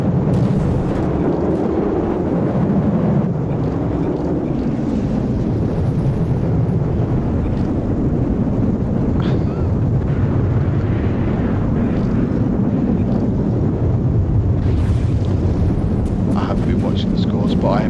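Missiles and explosions fill a video game air battle between the Crimson Guard and Zetan air control. A continuous loud, rumbling roar of blasts and engine noise runs throughout, with sharper bursts surfacing near the end.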